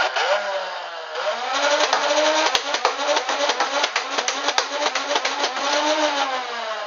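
A Nerf Raven blaster rewired with Barricade motors and fed from pink top-loaded magazines whines steadily up close, its motors revving up and down, with a few sharp firing clicks and no talking.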